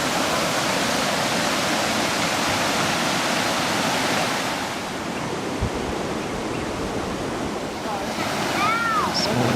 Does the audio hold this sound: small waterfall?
yes